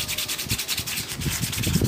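Steel plane frog rubbed back and forth on 360-grit sandpaper, a close, rhythmic scratchy rasp of quick repeated strokes with no talk.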